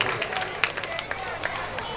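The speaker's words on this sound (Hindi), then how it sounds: "ऐसे भक्तों के लिए जोरदार तालियां" Loud applause from a gathered audience at a Bhagwat Katha religious discourse in Agra, continuous dense clapping with sharper individual claps, close and sustained, with voices mixed in.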